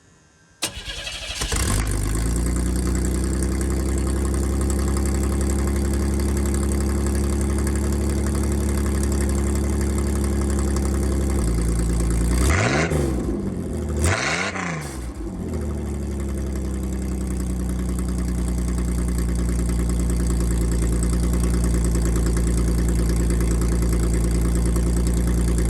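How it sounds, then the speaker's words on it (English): A 1987 GMC S15 pickup with its catalytic converter removed and a straight pipe fitted cranks and starts, then idles loudly and close with a deep, steady rumble, blipping the throttle twice midway before settling back to idle. "we're gonna start the truck and see what it sounds like with this pipe on"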